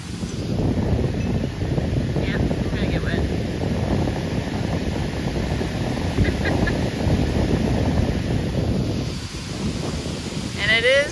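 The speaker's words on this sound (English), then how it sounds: "look at this wind" Strong gusting wind roars steadily into the microphone as a storm cell moves in, a constant loud buffeting wash with faint bird calls and a brief voice near the end.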